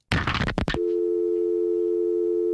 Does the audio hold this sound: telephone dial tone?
yes